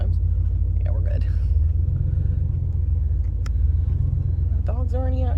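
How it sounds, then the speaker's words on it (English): A truck rolls in slowly with a low, steady engine rumble close by, while a person talks over it and a brief higher voice sounds near the end. "I'm gonna drive in nice and slow because this girl gets a little crazy in this truck sometimes"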